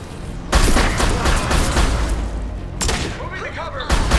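Heavy gunfire in the Mass Effect 2 video game, a dense loud fusillade of rapid shots with booming impacts, broken by brief pauses, with voices speaking over the battle.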